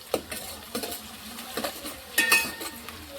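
A spoon stirring curry in a metal pot, several quick scraping clinks against the sides, close, with a faint sizzle beneath.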